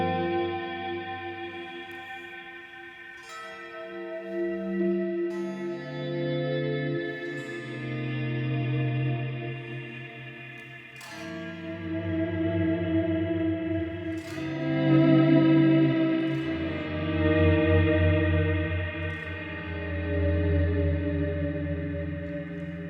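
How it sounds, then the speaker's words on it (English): An electric guitar plays slow chord volume swells through an Eventide H9, each chord fading in softly and blooming into long delay repeats and lush reverb that linger and overlap between strums. "as I bring my volume down, I can swell in a chord and then drop the volume back, and all of the delay and reverb from the H9 is still going to be there"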